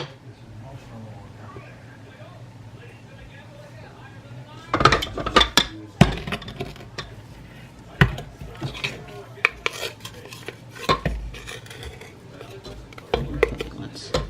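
A wooden spatula works chocolate peppermint chunks into cookie dough in a bowl, giving scraping, knocking stirs that start midway and repeat irregularly over a steady low hum.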